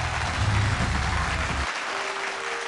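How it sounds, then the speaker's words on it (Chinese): A studio audience at a televised singing competition claps loudly and steadily to welcome a singer on stage, the applause thinning out partway through. "掌声欢迎林依蓉。"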